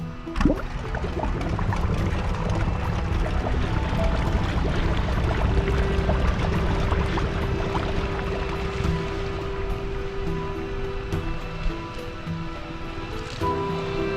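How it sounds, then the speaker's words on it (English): A ship's engine starting up in Elroy and the Aliens, a steady loud rumbling churn with a washing, water-like roar throughout and a sustained hum emerging partway through, no speech. "Prepare to start engine and set course for Archipelago."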